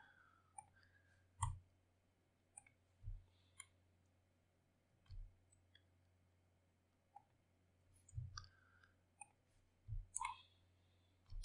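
A computer mouse clicks during image editing in Photoshop, about a dozen crisp, close clicks spaced irregularly over a quiet room with faint background noise.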